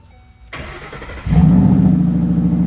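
A 2012 Ford Mustang Boss 302 with a 5.0L Coyote V8 cranks and catches, then settles into a loud, deep, steady rumble right up close, with no one speaking.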